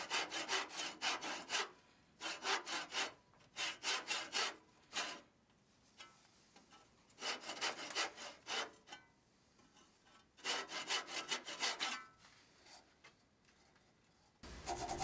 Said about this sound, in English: begin sawing along those lines to establish the depth